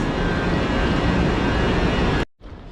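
A loud, steady rumbling roar of an arriving train on the Jeddah to Mecca line fills the clip, then cuts off abruptly near the end, leaving quieter background noise.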